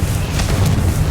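Confringo fire spell explosion in Hogwarts Legacy on PS5, a single loud, dense booming burst with no speech.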